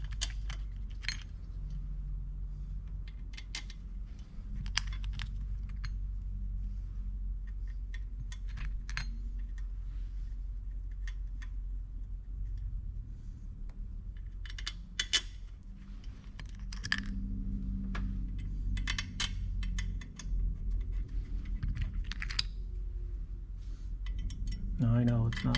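Small metallic clinks and taps come from screws being started by hand into the fuel rail of a Ferrari 330 America, scattered through a steady low hum, with occasional faint handling noises.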